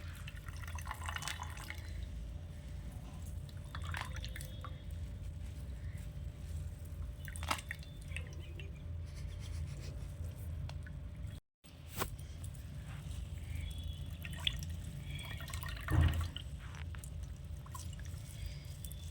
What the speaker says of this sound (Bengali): এটাকে আমি খুব ভালো করে একদম জলটাকে চিপে নেব কত জল বেরোচ্ছে দেখুন চাল থেকে